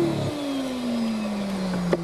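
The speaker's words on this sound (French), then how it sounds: "Le petit défaut qui arrive quand le moteur se coince." An Oase Pondova garden pond vacuum motor jams, its steady electric whine sliding slowly downward in pitch as it strains, close and continuous, ending in a small click.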